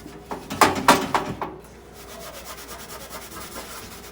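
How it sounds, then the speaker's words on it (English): Steel wool scrubs grease off a Coleman grill in several loud, rasping back-and-forth strokes, then settles into softer, steady rubbing. "I am over here trying to clean this. I'm using steel wool,"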